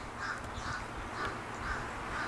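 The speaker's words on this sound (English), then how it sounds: "Got a crow up there making noises" A crow perched up above a post-and-beam building site caws repeatedly in an even rhythm, about five calls, moderately distant over a constant wind-like background hiss.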